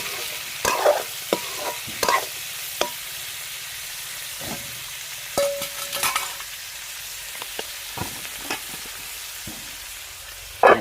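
Pork pieces fry in a pan with a steady low sizzle, punctuated by scraping stirs and clatter of a utensil at close range, with no voices.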